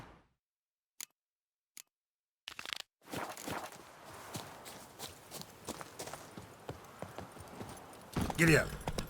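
Horse hooves clip-clop in The Witcher 3, a steady rhythmic trot that starts after a few sparse taps and runs on at moderate loudness beneath game ambience, with a louder burst near the end.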